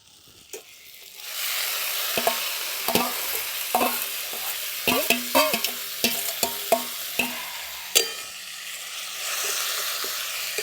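Boiled cabbage is stirred into a sizzling spice paste for a Bengali cabbage ghonto with fish head, with a steady fry hiss and repeated close spatula scrapes and clanks against the pan.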